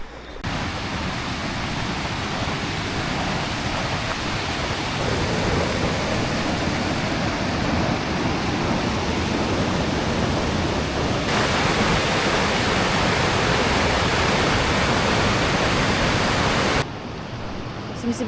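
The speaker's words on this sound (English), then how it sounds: "I'm gonna go check out the waterfall now and see what's going on there. I imagine it's probably starting to rage a little bit." A waterfall swollen with spring meltwater roars as a steady, loud broadband rush, continuous and close throughout, with a slight shift in tone partway through and no talk.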